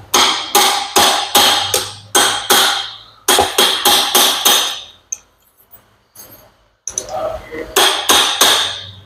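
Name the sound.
hammering with an aluminum punch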